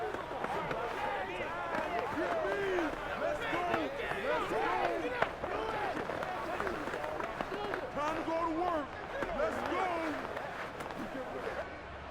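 A stadium crowd in Madden 23 roars steadily throughout a simulated Browns versus Commanders NFL game, a dense wash of cheering with whistles and shouts, while a commentator's voice speaks briefly over it.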